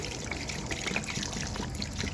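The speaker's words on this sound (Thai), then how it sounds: "เทน้ำใส่พี่น้อง" Water is poured steadily into a pot of chicken curry with leafy greens, giving a continuous close trickling splash for about two seconds and no talk.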